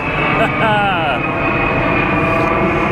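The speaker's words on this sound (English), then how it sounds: "Sorry for the airplane." A jet airplane roars steadily overhead near an Air Force Base, loud and continuous throughout. A faint voice briefly rises over the drone.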